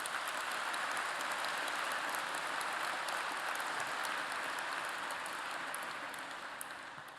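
Sustained audience applause at an awards ceremony in New York, dense and steady throughout before tapering slightly near the end, with no voices over it.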